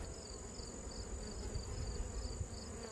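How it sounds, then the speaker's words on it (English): Honey bees being shaken down from a hive's top and inner covers into the hive below make a steady, dense buzz that stays close and fairly loud throughout, with no voices. "I have a lot of bees on the top cover and the inner cover. I'm just going to shake them down"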